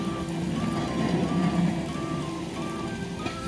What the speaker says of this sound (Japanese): 車のエンジンの音はするんですけど、